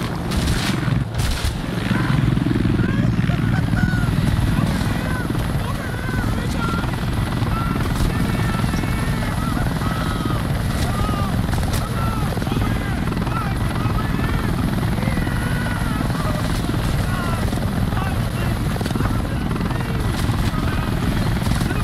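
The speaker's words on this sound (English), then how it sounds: "Helicopter!" A helicopter in the Arizona Sunshine video game thrums steadily and loudly throughout, its rotor chop continuous, with sharp gunfire-like bangs near the start and frantic voices shouting underneath.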